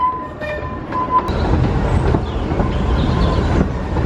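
A roller coaster train at Blackpool Pleasure Beach rumbles steadily along its track nearby, with a continuous clattering roar and faint high squeals over four seconds.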